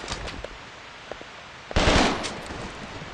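A machine gun fires in the video game Gorebox, a short, loud rapid burst in the middle, preceded by a few faint scattered pops and trailing into quieter echoes.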